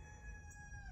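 A rooster crows once, a sustained, drawn-out call heard fairly faintly over a low background rumble.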